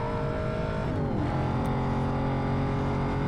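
Car engines roar and rev steadily in a Need for Speed Most Wanted (2005) race, a continuous loud drone with a pitch shift near the middle as gears change, no voices over it.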